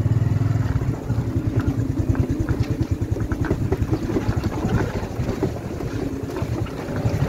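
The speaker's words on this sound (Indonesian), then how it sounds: "Motor." Motorcycle engine running with a throbbing low chug and gusty wind noise, on a rough stone road trip between Bandung and Cianjur.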